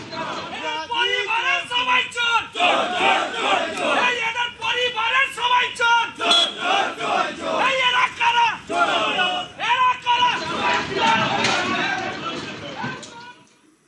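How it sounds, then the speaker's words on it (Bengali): An agitated crowd outside a court chants slogans at arrested suspects as they are led out, loud rhythmic bursts of many voices shouting in unison, pulsing repeatedly before fading toward the end. "ধৃতদের লক্ষ্য করে ডিম চোর স্লোগান, উত্তেজিত জনতা।"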